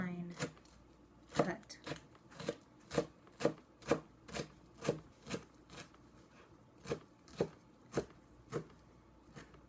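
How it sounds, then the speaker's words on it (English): A knife finely chops onions and jalapenos on a cutting board for fresh salsa, sounding as about fifteen crisp, evenly spaced taps close by and fairly quiet. "I like to cut it in half, bring everything towards together, and then just do a nice fine cut"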